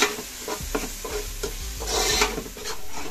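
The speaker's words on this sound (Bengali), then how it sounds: "এখন ভালো করে মিক্স করতে হইব" A spoon stirs and scrapes spices, including coriander powder, in a sizzling frying pan while cooking a bottle gourd and shrimp curry, with rhythmic close scraping strokes over a steady hiss of frying.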